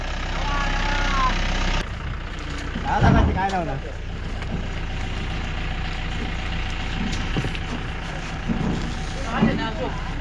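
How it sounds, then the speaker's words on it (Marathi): A vehicle pulls up with its engine running on a rural Konkan road, a steady low idling rumble close by with voices talking over it. "तेवढ्यात आता गाडी इली आहे"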